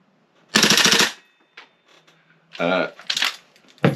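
A Tokyo Marui MWS airsoft rifle fitted with a steel bolt fires in quick, loud bursts up close, sharp rattling volleys separated by short pauses, with a few isolated clicks between.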